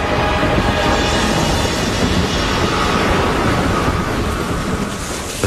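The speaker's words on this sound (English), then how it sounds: "this ship had also been caught in a storm" Heavy storm at sea with thunder and driving rain, a dense, steady roar of broadband noise that stays loud throughout with no distinct individual claps.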